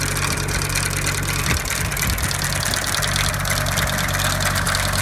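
A late-model hay mower's engine idles steadily and up close, a continuous low rumble with a faint knocking undertone and no talking.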